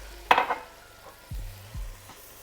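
Rice poured into boiling wine in a pan over medium-high heat, a burst of rattling, sizzling pours followed by a few soft stirring scrapes and thumps, close and fairly loud, with no talk.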